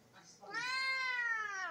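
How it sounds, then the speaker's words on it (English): A house cat gives a single clear, drawn-out meow close by, rising and then slowly falling over about a second. "And Kitty wants to say hi to everyone."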